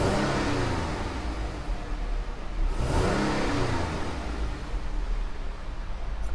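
A 2014 Jeep Grand Cherokee engine holds high revs against its rev limiter, a steady loud whirring roar with a brief surge midway, heard close with no talk.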